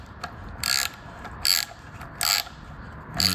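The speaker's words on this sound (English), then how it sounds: "you're going to screw this bit by hand all the way through" A thread repair bit is turned into a stripped oil drain-plug hole, giving four short bursts of crisp metallic ratcheting clicks with brief pauses between them, close and fairly loud.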